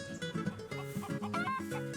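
Backyard chickens cluck in a busy, close chorus of overlapping tonal calls and short clucks, steady and lively without any voices.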